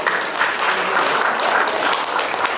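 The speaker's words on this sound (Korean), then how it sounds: "여러분, 큰 박수 부탁드립니다" Sustained applause from an audience at the opening ceremony of a painting exhibition, steady dense clapping filling the whole stretch without any voices over it.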